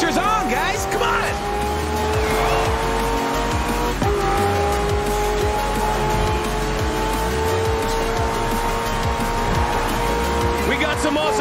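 Race cars and hypercars roar through city streets in Forza Horizon 4, loud continuous engine drone with shifting pitch, tire squeal and passing cars, while a voice talks over it throughout.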